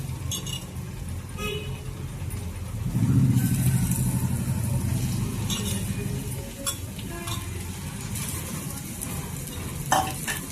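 Fish pieces for a fish curry fry in spice gravy as a steady soft sizzle, swelling louder just after they go into the pan, with occasional light scrapes of a utensil.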